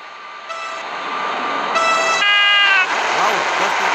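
A freight train's horn sounds in snowy, icy winter conditions near Stuttgart–Augsburg rail line, giving a couple of loud harmonic toots over steady rumbling rail noise, with a voice speaking at times.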